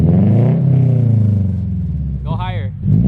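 A 2022 Subaru BRZ engine revs through an aftermarket single-exit exhaust, with a deep, loud, steady rumble close by and a quick rising rev near the end. Voices may be talking over it.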